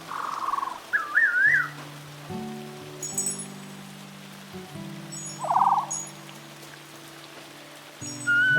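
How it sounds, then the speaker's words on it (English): Rain in the cozy island game Luma Island patters softly as a steady hiss beneath gentle in-game music and occasional bird-like whistles. "I really hate the rain in this game."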